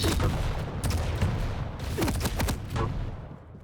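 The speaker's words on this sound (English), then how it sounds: "fantastic rocket from k3phyr" Rocket launcher shots and explosions in a fast video game duel, several sharp blasts and booms in quick succession, loud and close, with no talk.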